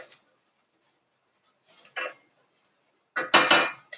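A utensil scrapes and clinks against a pot while risotto is stirred, in scattered short bursts with quiet gaps between, the busiest scraping coming near the end.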